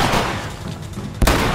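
Shotgun fire against a Bloater in The Last of Us on Grounded mode. A dense rumble of game noise comes first, then one sharp, loud blast lands near the end of the short clip.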